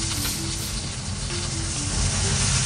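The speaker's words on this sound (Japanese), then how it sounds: "厚揚げをね、焼いていきます。" Thick fried tofu sizzling steadily in a frying pan, a dense continuous hiss and crackle that stays loud and even throughout, with no voices.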